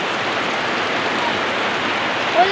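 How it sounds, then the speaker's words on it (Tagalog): Heavy rain during a storm pours down in a steady, loud wash of noise, constant from start to finish with no voices over it. "Ulan nga masyado, oh."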